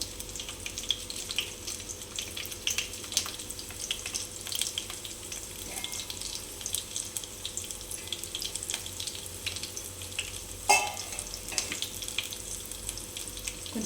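Crushed garlic and dried red chillies sizzle in hot oil for tomato dal, a steady close crackling hiss with a few sharper pops and one louder clatter partway through.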